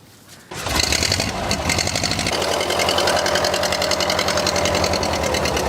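Original engine of a vintage military vehicle starts up after a brief quiet moment, then settles into a steady, loud, rapidly pulsing idle that continues throughout without talk.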